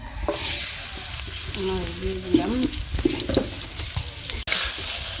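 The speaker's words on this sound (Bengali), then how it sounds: "মাছটা ভাজা হয়ে গেছে" Fish frying in hot oil in a home kitchen, a continuous close sizzle with clattering as a voice speaks briefly over it.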